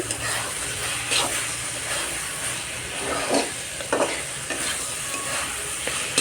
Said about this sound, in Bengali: যে ভেজে রেখেছিলাম আলুগুলো সেগুলো দিয়েও আবার কিছু সময় কষিয়ে নেব